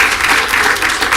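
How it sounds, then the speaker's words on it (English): Audience at a service awards gathering applauding a director, a dense, loud, continuous wash of clapping over a brief moment. "extend a round of applause"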